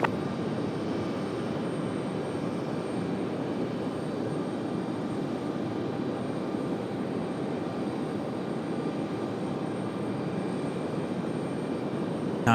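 An airplane arriving at Raleigh Durham International Airport gives a steady, broadband engine roar that holds at an even level throughout, with no voices.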